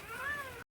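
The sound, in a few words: cat meowing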